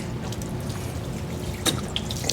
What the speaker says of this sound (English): Kind of rinse that off.